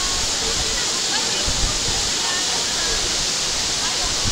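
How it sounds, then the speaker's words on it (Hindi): A tall waterfall in Pakistan with water dropping hundreds of feet gives a steady, dense roar, loud and unbroken throughout. "एक बार फिर देखिए ये खूबसूरत आबशार"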